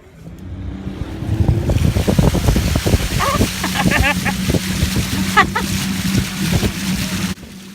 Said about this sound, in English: We would spend the next 8 hours motoring southbound in one of the dugout canoes traditional to the kuna of this area.